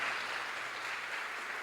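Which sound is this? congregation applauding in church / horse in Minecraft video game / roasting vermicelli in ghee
congregation applauding in church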